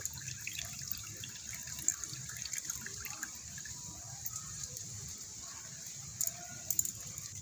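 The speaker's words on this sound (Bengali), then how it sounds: "আস্তে আস্তে ঢেলে দেবো জলটা ঝরে যাবে খুব ভালো করে জলটা ঝরিয়ে নেব" Water drains from soaked potato slices poured into a basket set over a bowl, a soft steady trickle and splashing with scattered drips, fairly faint and continuous, without speech.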